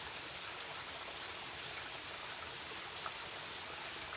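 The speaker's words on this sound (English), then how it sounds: "A little more of the waterfall there for you." A small waterfall at Tory's Den pours steadily, a continuous broadband hiss of falling water at moderate, even level with no breaks and no voices.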